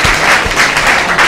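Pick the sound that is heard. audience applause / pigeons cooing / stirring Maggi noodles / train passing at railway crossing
audience applause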